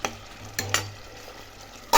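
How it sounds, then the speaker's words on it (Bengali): Potatoes stir-fried with spices in a pan, a low sizzle broken by a few sharp scrapes and clinks of the spatula, close, with no voices. "আলুটা মশলার সঙ্গে কষে নিচ্ছি"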